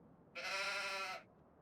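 Sheep in Farming Simulator 25 give a single drawn-out bleat of just under a second, loud and close against a quiet background.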